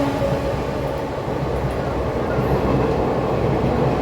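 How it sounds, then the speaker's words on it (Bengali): A train arriving at a station, a steady low rumble and clatter of rail cars rolling in nearby, continuous throughout with no talking. "ট্রেন এসে গেল।"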